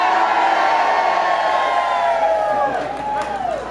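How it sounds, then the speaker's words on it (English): A large outdoor concert crowd screaming and cheering together, a loud sustained roar of voices with whoops rising and falling, at an event where the audience was asked to shout the word Mavericks. "On the count of three, we'll get all crazy, hands up and scream Mavericks"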